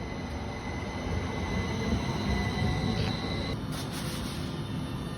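A train rolls past near Kirkstall station in Leeds, a loud, close, steady roar of rail wheels with a thin high squeal running through it and no voices.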